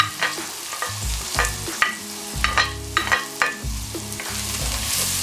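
Garlic, pepper and spring onion stirred together in a sizzling pan for jollof spaghetti, with repeated scraping strokes of a utensil over a steady fry and low clunks of the pan, close and alone.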